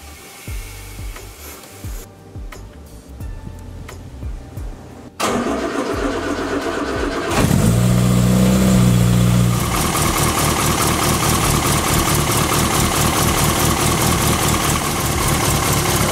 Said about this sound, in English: we're just letting the engine run for 10 minutes to run that through the system